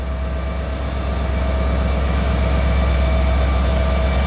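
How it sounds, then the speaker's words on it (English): An EMD diesel locomotive engine on a CSX train runs steadily close by, a deep rumbling drone with a sustained mechanical whine layered on top, unchanging in loudness throughout. "Yeah, listen to that EMD running,"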